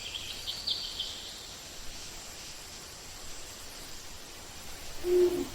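A Victoria crowned pigeon gives a single low, booming hoot near the end, quiet and short, over a faint hiss of insects.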